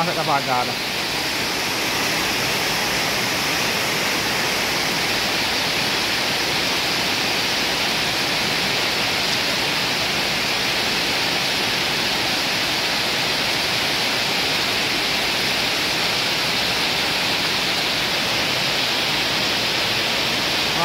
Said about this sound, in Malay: hujan dengan lebat ni